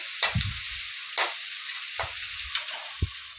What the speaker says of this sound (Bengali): রসুনটা আদাটা একটু ভাজা হয়ে গেলে